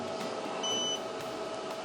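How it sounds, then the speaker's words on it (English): A Growatt Infinity 1500 power station, overloaded, gives a single short, thin electronic error beep over faint background hum. "It beeps with an error message and stops charging"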